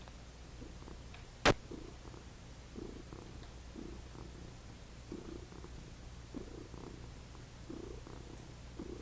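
A house cat purring steadily and softly up close, with a faint low rumble throughout and one sharp click near the start.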